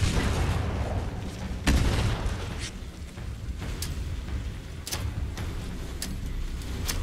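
Grenade explosions in Fallout 76 land as a few heavy booms over a loud, constant rumbling game soundscape, with sharp cracks sticking out now and then.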